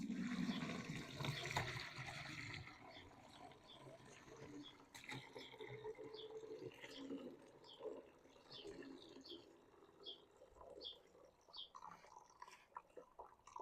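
Liquid pours and splashes steadily as a vegetable-scrap and beef-bone broth is strained, followed by scattered drips and small splashes, close by and fairly quiet.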